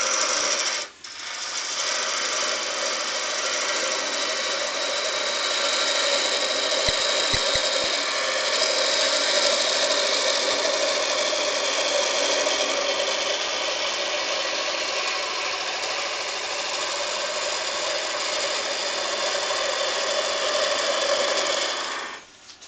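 Wood turned on a workshop lathe for a simple lidded box gives a continuous loud motor hum with a scraping cutting noise layered over it. The sound holds steady for about twenty seconds before stopping abruptly.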